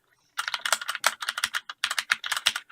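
Fast typing on a Corsair K65 mechanical keyboard with Cherry MX switches, a dense run of sharp, close clacks in quick irregular bursts that starts after a brief silence and continues steadily, with no voices.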